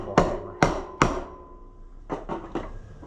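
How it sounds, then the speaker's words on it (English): Sharp metallic hammer blows on an Oliver 70 tractor engine during head removal, three loud strikes followed by three lighter quicker taps, close and with short ringing decay. "Let's get a hammer."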